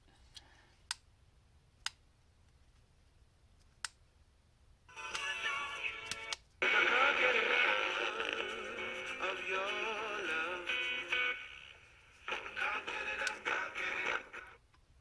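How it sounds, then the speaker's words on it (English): A LESHP DS-716 Bluetooth speaker radio switching stations while it searches: a few sharp clicks in near-silence, then loud bursts of hissing static that cut in and out for several seconds. "I'm going to switch stations, and you'll get to hear it sort of searching."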